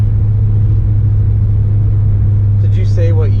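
A car engine warming up while driving along a main road gives a steady, loud low drone with a constant hum throughout, and a faint voice briefly speaks near the end.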